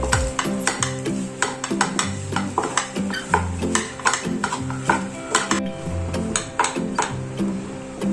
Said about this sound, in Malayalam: നല്ലതുപോലെ ഒന്ന് മിക്സ് ചെയ്തെടുക്കാം.